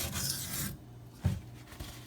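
A Maxamet steel knife blade drawn across a Venev diamond stone gives a close, rough rasping stroke that fades into a quieter scrape, with a soft knock partway through.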